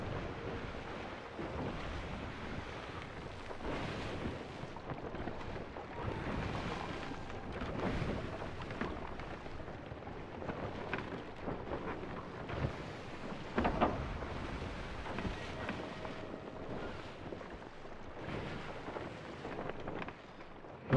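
A ship sails into a headwind in the pirate video game Sea of Thieves. Steady, rushing wind mixes with surf and water noise at constant loudness throughout, with no talking.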